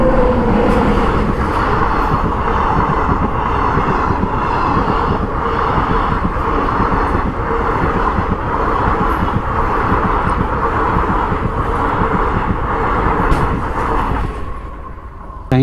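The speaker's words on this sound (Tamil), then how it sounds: "ட்ரெயின் வந்துட்டுருக்கு பாருங்கள்." A train rumbles steadily past a level-crossing gate, loud and close with a continuous roar and wheel clatter for about fifteen seconds, then fades away quickly at the end.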